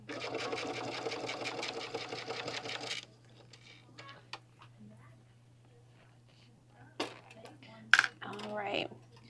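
A sewing machine backstitches through bulky bag layers, running loud and steady for about three seconds before stopping. Faint handling clicks and a few sharp clinks follow in the quieter stretch.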